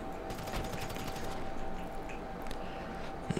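During a heist in GTA V Online, a dense fusillade of gunshots crackles in rapid bursts over a steady low background, at moderate loudness and with no talk.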